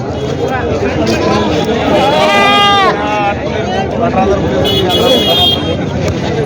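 Goats bleat loudly over a busy crowd hum at the Jawala goat market, Aundha taluka, with several wavering cries close by and a vehicle horn tooting in the background.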